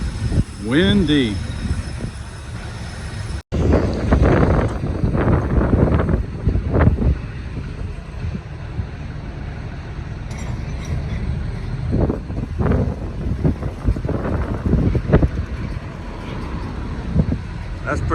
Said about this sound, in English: Man, is it windy.